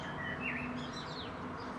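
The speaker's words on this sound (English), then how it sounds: "Birds are singing very loudly today." Outdoor birdsong with short chirps and whistled trills over a steady background hum, moderately distant, heard on a day of working on an old rusty Fiat Panda 4x4 Sisley.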